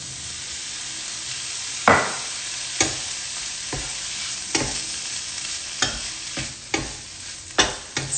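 Fried rice with soy sauce is stir-fried in a hot pan, a steady sizzle broken by about a dozen sharp scraping strokes of the spatula at an uneven rhythm, close and loud.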